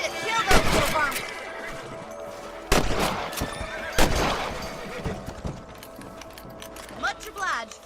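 Several loud gunshots ring out in Red Dead Redemption 2 as rabbits are shot, sharp cracks spaced a second or two apart amid game ambience, horse whinnies and mechanical clicks.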